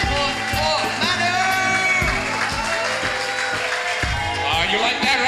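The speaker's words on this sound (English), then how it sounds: "please give a very round of applause for Manu!" An audience at a live comedy show greets a comedian named Manu with sustained applause, whoops and shouted cheers, loud and crowded throughout, while an amplified voice carries over the noise.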